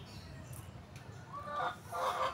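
Young stag chickens around three months old cluck and call in a backyard among bamboo, several short bursts rising over a steady low background hum, fairly faint and close.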